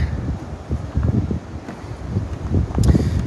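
Gusty wind buffets the microphone on the shoreline at Plettenberg Bay, in uneven low rumbling bursts, steady throughout with a few stronger gusts near the end.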